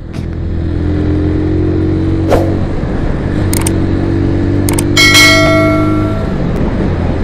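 Kawasaki W175 motorcycle riding through light traffic, its steady engine drone running throughout with a brief rev swell midway and a few bright horn-like or bell-like tones layered on top near the end.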